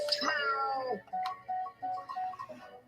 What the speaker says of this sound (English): Hi, Gary. Meow. He's so cute.